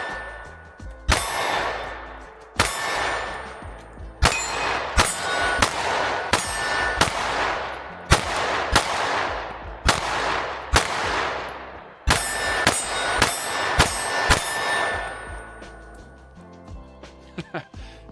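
An MC9 Prime pistol with a ported barrel fires about a dozen sharp, very loud shots, close by. They come singly and in quick pairs with short pauses, and each crack rings off with a metallic tail.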